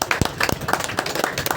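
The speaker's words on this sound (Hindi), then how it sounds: "जोरदार ताली सन्नानंद तिवारी जी के लिए" Applause at a Hindi-speaking community association's branch inauguration in Lodha Palava: a short burst of scattered hand claps from a nearby gathering, uneven and lively, with sharp individual claps standing out.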